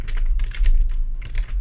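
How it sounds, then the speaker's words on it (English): Quick bursts of typing on a computer keyboard during an online geography quiz, several clusters of crisp key clicks in irregular rhythm, close and clear with no talking. "Just typing anything I can think of."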